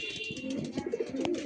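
A female Andhra fulsira tippler pigeon gives a brief, soft coo as it is let out of a latched cage, quiet and close with no voices.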